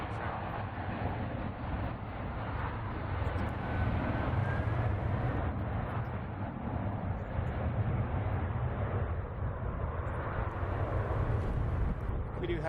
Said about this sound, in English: We do have a United Boeing 737 MAX 8 heading to Kahului